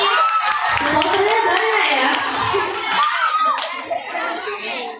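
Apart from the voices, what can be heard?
audience applauding at a school religious speech contest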